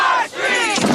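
A large crowd of demonstrators outside the World Economic Forum meeting chants and shouts together, a loud, dense roar of many voices that dips briefly before swelling again.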